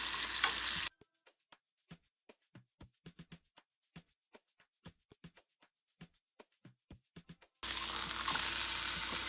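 Plant-based beef filling and red peppers frying in a pan give a loud, dense sizzle at the start and again at the end, separated by a long quiet stretch of scattered sharp ticks and pops.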